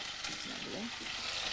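Fish or meat fillets sear in a hot frying pan for a Tunisian dish, a steady close sizzle with faint stirring underneath.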